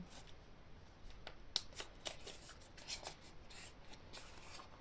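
Oracle cards of the rose being shuffled by hand during a card reading, a soft papery riffling and rubbing with several crisp flicks, close and quiet with no talking.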